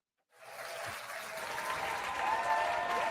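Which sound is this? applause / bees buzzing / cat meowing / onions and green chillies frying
applause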